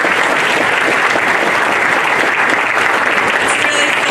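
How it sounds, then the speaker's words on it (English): Audience applause fills a hall at a high school athletic hall of fame ceremony, a steady, dense wash of clapping from many hands that holds evenly at full strength throughout. "I'd like to give them a round of applause."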